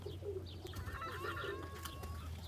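California Spinner roller pigeons coo softly and steadily over a low constant hum, with several birds calling at once at a moderate distance.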